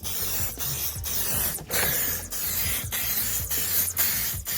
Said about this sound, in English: I sprayed lights with silicone and they look like new.